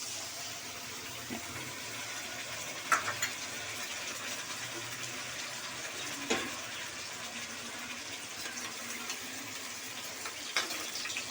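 Water poured into a bowl that held ground spice paste, rinsing it out for a Bengali-style ghugni, a low steady pouring wash with a few faint clinks, no talking.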